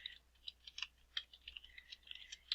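Fast bursts of clicky computer keyboard typing, close and quiet, with uneven rhythm and short pauses between clusters of keystrokes, heard alone without talk.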